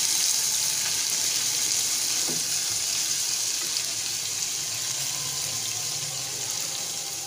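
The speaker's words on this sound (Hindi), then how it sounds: "सबसे पहले हम इसमें ऐड करेंगे अदरक, हल्का सा इसको ब्राउन करेंगे।" Ginger lightly browning in about five tablespoons of hot oil in a pan, a steady soft sizzle and hiss running evenly throughout with no talk over it.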